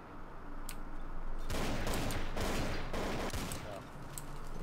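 Gunfire in the Garry's Mod Zombie Survival game, set in a mall. Loud bursts of shots come in dense clusters over a few seconds, with some talk underneath.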